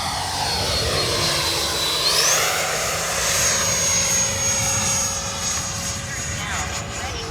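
A Freewing 90mm Eurofighter radio-controlled electric ducted-fan jet flying overhead, its steady high-pitched whine rising and shifting as it passes, loud and continuous throughout.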